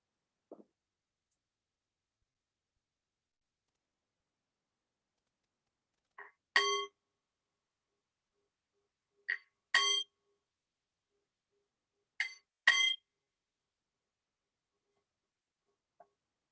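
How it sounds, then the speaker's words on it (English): A meditation bell marks the end of a quiet meditation, struck in three soft pairs of short, ringing tones spaced a few seconds apart against near silence. "when we hear the sound of the bell, coming gently and quietly out of our meditation"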